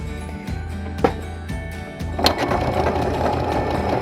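A sewing machine stitches down a folded fabric hem, with a few quick whirring bursts and clicks at first, then a steady close mechanical chatter as it runs continuously.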